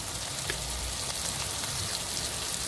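Brinjal frying with chili powder in hot oil in a pan, giving a steady, dense crackling sizzle, close and constant throughout, with no speech.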